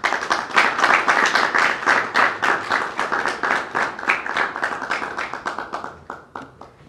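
Audience applause for a gift presentation of a Sindhi cap to a bishop at an ecumenical prayer gathering, loud and fairly close, settling into rhythmic clapping in unison that gradually thins and fades.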